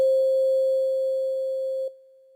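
A steady, pure electronic tone holds at one pitch for nearly two seconds, then drops abruptly to a much quieter level.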